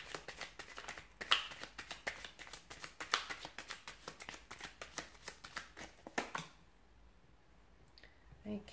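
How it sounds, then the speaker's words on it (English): Rapid papery riffling and slapping of tarot cards being shuffled close by, in quick bursts for several seconds, then a quieter pause with a few soft taps. "So let's give the cards a shuffle"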